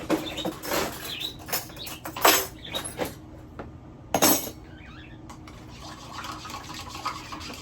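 Ice cubes clinking and clattering in a glass while iced coffee is made with saved McDonald's cream, a series of sharp close taps and rattles with brief pauses and no talking.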